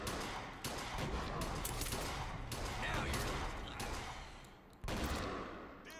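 Rapid bursts of gunfire from the video game Bioshock Infinite: Burial At Sea crackle in quick succession at moderate volume, with short pauses between volleys.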